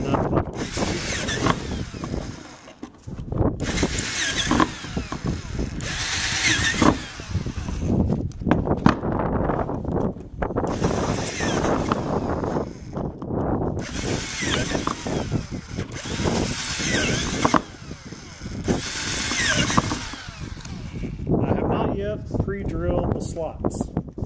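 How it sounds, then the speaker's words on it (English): Bursts of a power drill whirring through a Kydex sheet in repeated stretches, close and loud, with brief pauses between runs. "I'll just hold the Kydex up in my hand. So out of shape while I'm drilling."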